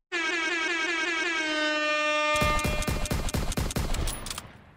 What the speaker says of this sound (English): Give that an air horn.